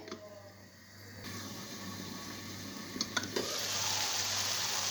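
Tomatoes cook with meat, mushrooms and potatoes in a pan, giving a steady sizzle and frying hiss that grows louder, with a few brief clinks of stirring.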